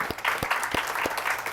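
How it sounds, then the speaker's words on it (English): Brief burst of applause from a small crowd at a school board meeting, a steady patter of claps with a few louder thuds, lasting just over a second. "round of applause for mom, dad, brother"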